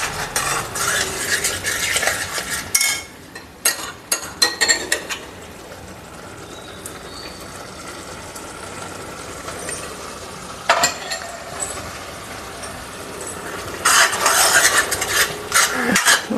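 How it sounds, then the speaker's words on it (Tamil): Egg and ridge gourd are sautéed over high heat in a pan, heard as bursts of quick scraping and tapping stirring strokes with quieter sizzling stretches between them, close and loud. "முட்டையை போட்டு 1 நிமிஷம் தான் வதக்கணும்"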